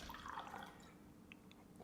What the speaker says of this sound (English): let's pour a little bit into each glass